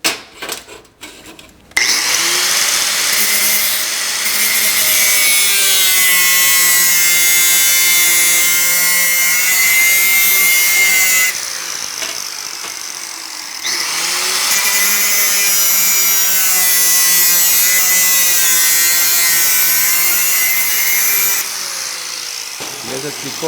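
An angle grinder cuts through metal pipe and angle iron in two long, loud, steady passes, its high whining screech holding pitch through each cut with a brief pause between.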